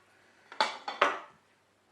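A knife cutting black pudding into four pieces on a board, a few quick sharp chops and taps close by, separated by short pauses.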